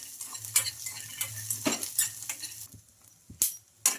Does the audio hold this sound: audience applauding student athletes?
no